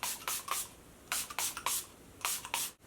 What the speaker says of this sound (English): when you spray a makeup setting spray on your face